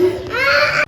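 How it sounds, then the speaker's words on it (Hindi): A child's crying wail in a home, one sustained, close, loud rising cry lasting under a second before cutting off. "वो सामने बच्चा रो रहा है"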